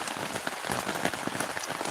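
Heavy rain pelts a tent during an overnight storm with high winds, a dense, steady patter of drops drumming close on the fabric with no voices.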